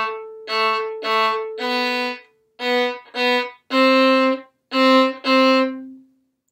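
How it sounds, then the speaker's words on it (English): Violin playing a long-short-short rhythm, one long bow stroke followed by two short strokes on eighth notes, repeated in clear sustained tones, played solo and close with no talking. "So whenever we play that rhythm on our violin, it will sound like this."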